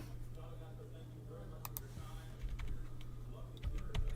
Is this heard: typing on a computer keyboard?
yes